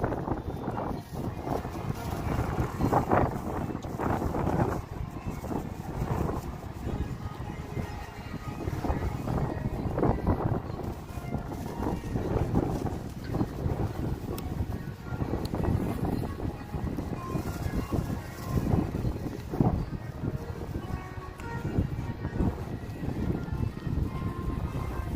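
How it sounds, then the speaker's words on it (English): Gusty night wind on the Las Vegas Strip, a steady low rumbling buffet that roars on continuously at close range with no clear pauses, like air blowing across a microphone. "Lots of wind tonight."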